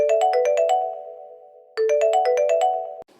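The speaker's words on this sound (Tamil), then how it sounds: "கடவுளே, இவன் வேற ஃபோன் பண்றானே." A cartoon mobile phone rings with a bright electronic ringtone: a quick run of chiming notes, a pause, then a second burst that cuts off abruptly, loud and alone.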